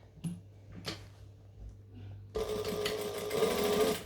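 A sewing machine starts after a few soft handling clicks and runs in a fast, steady whirring chatter, stitching around a 3D fabric object at close range.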